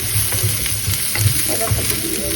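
Something fries in a pan with salt and turmeric, a close, continuous sizzle with soft stirring scrapes throughout a brief stretch and no voices.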